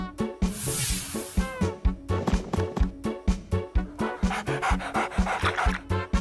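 A cartoon dog in a Honey Bunny kids' animation pants in quick, loud, rhythmic bursts close to the listener, with short breaks between runs of breaths and no speech over it.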